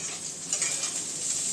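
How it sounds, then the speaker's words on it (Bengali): Sliced bitter gourd sizzles and fries in a pan at home, a steady close hiss with faint stirring scrapes and no talking. "এই যে এদিকে করলা ভাজা করছি"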